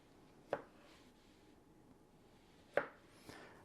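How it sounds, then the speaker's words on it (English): Knife slicing ripe plantain on the diagonal against a board, two quiet crisp cuts about two seconds apart, each with a soft thud, and a fainter tap near the end. "we'll take the plantain and just kind of cut them at a diagonal to the thickness that you want"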